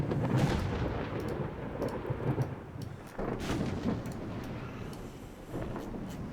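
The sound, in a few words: thunderstorm in naval video game mod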